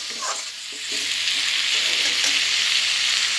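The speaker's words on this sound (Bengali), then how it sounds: "সবজিটা খুব ভালো করে ভাজা হয়ে গেছে।" Vegetables sizzle and fry in a pan for fish dopiaza, a steady, close, bright crackling hiss that swells after a brief stir at the start and then holds evenly to the end.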